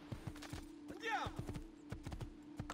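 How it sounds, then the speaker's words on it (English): Horse hooves clip-clop rhythmically in Assassin's Creed II, fairly close and steady, with a brief neigh in the middle, under a constant hum and quiet background voice. "Let me hop on this horse then."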